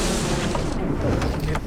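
The Warwolf trebuchet siege engine fires a shot at a castle gatehouse, heard as a loud, close, rumbling impact that fills the whole brief moment.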